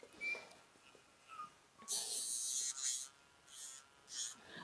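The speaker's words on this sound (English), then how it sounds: "That's because the nail grinder is like going fast" An electric nail grinder buzzes in short bursts while trimming a wire-haired rabbit dachshund's nails, one longer steady whir among briefer ones, close up, with faint breathing and a little quiet speech.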